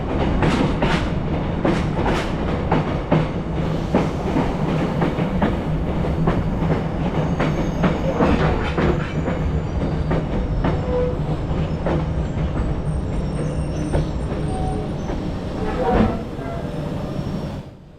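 A passenger train on the Saigon to Hanoi line rolls along the rails with a loud, steady rumble, rhythmic clickety-clack of wheels over joints and occasional sharper clanks from the carriage.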